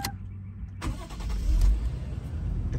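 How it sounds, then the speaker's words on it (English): A 1997 Toyota Mark II JZX105 with the 1JZ-GE engine and all-wheel drive starts up: a brief starter crank, then the engine catches and settles into a steady low idle rumble, heard close from inside the car. "Let me start the car."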